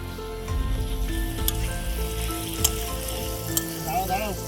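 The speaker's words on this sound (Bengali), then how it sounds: "এবার সবজিগুলো ভাজা করে নেবো আমরা।" Vegetables frying in a pan during village cooking, a steady close sizzle with occasional stirring clinks and scrapes, no voices over it.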